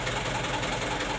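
A car engine idling steadily, with a constant low rumble and a faint regular knock, close and loud, with no talk over it. The car's vacuum indicator stays lit after start-up.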